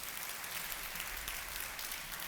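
A church congregation claps for Jesus in a dense, even patter of many hands that holds steady and sounds somewhat distant and muffled.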